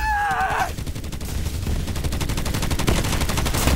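Rapid automatic gunfire in the shooter video game Borderlands 3, a dense stream of loud, evenly spaced shots lasting several seconds after a brief electronic whine, no talk.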